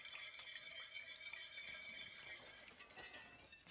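Seasonings are whisked into gravy in a pan for chicken fried steak, a quiet, steady scraping swish of the whisk against the pan with a faint simmering sizzle underneath.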